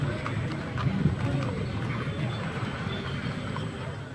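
Hooves of horse-drawn carriages clip-clop through a wedding procession rehearsal in Solo, a steady muffled patter heard at a distance beneath crowd noise and talk.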